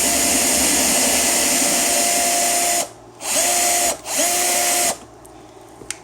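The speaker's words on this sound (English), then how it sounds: "So you can see that's drilling that head of that bolt out larger" Power drill bores out a stripped bolt head with an easy-out bit on an HPI Savage XS Flux RC truck, a loud steady whine broken by several short pauses before stopping near the end.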